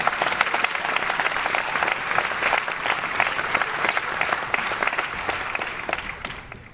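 Sustained, dense applause from an audience at a talk on climate change and food security, steady and fairly loud throughout with no voice over it.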